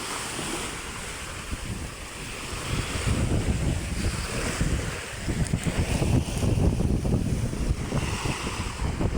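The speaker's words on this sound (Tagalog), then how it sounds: "Talagang namumuti ang alon sa laot." Rough ocean surf churns and crashes continuously onto the shore, with strong wind buffeting the microphone and no voices.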